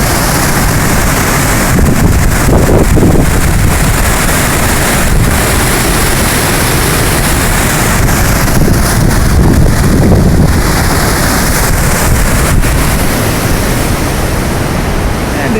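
Water rushing over the falls at a river lock and dam, a loud, steady, close roar that holds without pause, with a few gusts of wind buffeting the microphone.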